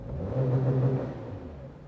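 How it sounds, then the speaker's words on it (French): A small engine in a 2017 Subaru Impreza revs briefly in park, a short, close, mid-pitched rumble that swells and then eases off. "Un petit moteur de Subaru qui ne veut pas virer plus que 4000 tours."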